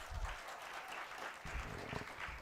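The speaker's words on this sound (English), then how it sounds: "Just give a big round of applause." An audience claps steadily, a dense wash of many hands applauding without pause for a couple of seconds.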